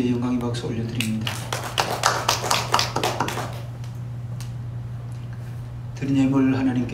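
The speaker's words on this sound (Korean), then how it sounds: "우리 하나님께 영광의 박수 올려드립니다." A church congregation claps together during a Sunday worship service, a dense burst of applause building and then tapering off over several seconds, with a steady low hum and instrumental tones underneath before music returns.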